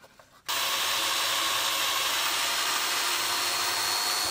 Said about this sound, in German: Dazu werde ich jetzt erstmal ein 12 mm Loch bohren.